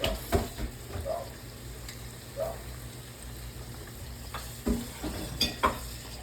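Soft shell crab frying in a pan gives a low, steady sizzle with occasional crackles and light stirring or scraping noises, fairly faint and with no talking.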